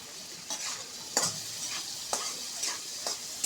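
Whole garlic, onion, dried red chilies and cumin fry in oil in a pan, giving a steady close sizzle. A spatula stirs and scrapes at regular intervals, about one stroke each second.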